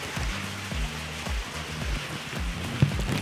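Water spills off rocks into a small stream in a Thai jungle national park, a close, continuous patter and splash with dripping, fairly soft and steady, no voices.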